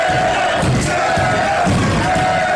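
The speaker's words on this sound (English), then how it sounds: "And this place just erupted." A packed wrestling crowd at the Extreme RISE Rumble hardcore show in a Teesside venue roars in loud, sustained cheering and shouting, a continuous dense wall of voices with a few swells.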